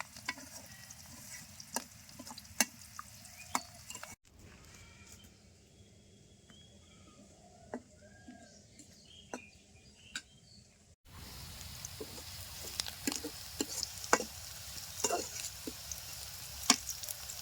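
Goat tripe curry being stirred in a pan at a village kitchen, with intermittent sizzling and the scrape and clack of the spoon, fairly faint and alone, quieter in the middle section and louder again toward the end.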